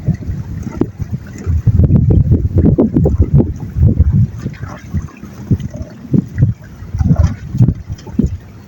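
A boat engine running in full reverse on a lake churns steadily with gusting wind buffeting the microphone, loud and continuous without speech.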